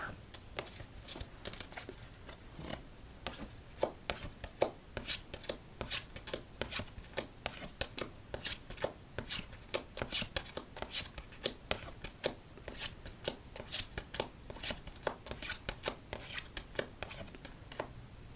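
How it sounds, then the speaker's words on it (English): Rapid rhythmic riffling and snapping of playing cards being casino-shuffled again and again for solitaire, close and crisp, in repeated bursts with short pauses between. "we'll double up with the casino shuffles for 3 and 4"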